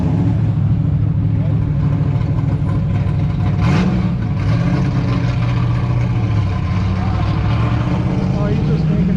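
A car engine idles loudly and revs up briefly, its rumbling pitch rising and settling, close to the listener, on Woodward Avenue during a classic car cruise.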